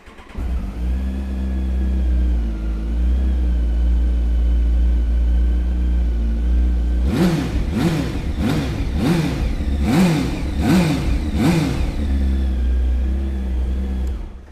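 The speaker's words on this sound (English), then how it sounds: "So let's fire this one up and have a listen." A Kawasaki ZX12R Ninja hyperbike from the 2000s idles with a loud, steady, close rumble, then is revved sharply in about six quick bursts before settling back to idle.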